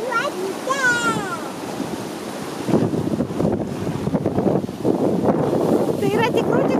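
Rough, restless ocean surf rolls and crashes along a windy American coast, with steady broadband wash and gusting wind buffeting the microphone throughout while people talk over it.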